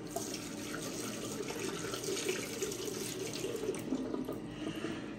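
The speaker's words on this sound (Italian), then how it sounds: "Una sciacquatina alle mani." Water runs from a tap as hands are rinsed under it, a steady close splashing stream with soft fluctuations and no talking.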